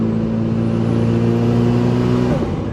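Mitsubishi Evo with a Tomei exhaust idling and revving, a loud, steady, close engine drone with strong low harmonics that shifts and drops near the end.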